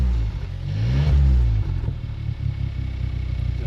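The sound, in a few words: Volkswagen Scirocco 1.4 TSI revving with Scorpion exhaust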